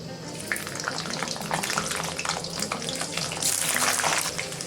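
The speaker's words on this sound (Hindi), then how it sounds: "इसी तेल पे मैं लहसुन ऐड कर देंगे।" Garlic sizzles in hot oil in a kadai, a dense, steady hiss with crackling spatter that swells louder toward the end.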